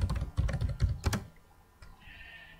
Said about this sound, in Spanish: Introducen su contraseña normal.